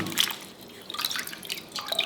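Water drips and trickles while a peeled ridge gourd is washed, giving quick light splashes and droplet plinks up close for a couple of seconds.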